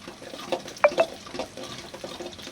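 Onions fry in a generous pool of oil for an egg curry, with a soft sizzle under a few sharp metallic clinks and scrapes as a spoon stirs the pan.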